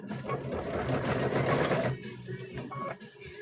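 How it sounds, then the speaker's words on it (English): A sewing machine stitches a quarter-inch seam on quilt binding, a fast steady close whirring run of needle strokes that stops abruptly partway through, leaving quieter handling noises. "Okay, so we're going to do 1/4 inch seam here."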